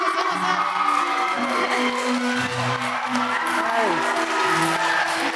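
Crowd applause and cheering from fans at the Harry Potter studio tour in Tokyo, greeting Rupert Grint at a great hall light-up ceremony, with voices and shouts mixed into the dense, continuous clapping.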